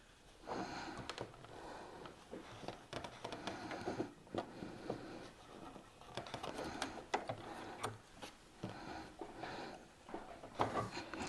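A sewing machine running a lock stitch, a steady mechanical whirring and clatter of the needle and gears that carries on continuously at moderate volume, close by and with no talk.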